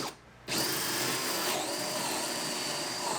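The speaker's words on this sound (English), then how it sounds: "we're drilling a hole in this box" Power drill boring a hole through a box on a small boat, starting abruptly after a short quiet pause and then whining steadily and loudly at close range, with no talking.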